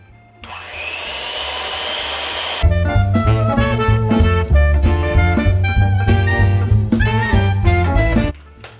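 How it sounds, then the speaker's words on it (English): An electric mixer whirs steadily and close while blending cinnamon waffle batter, then loud music comes in and plays over it until near the end. "So now we will just mix all those ingredients together with our electric mixer"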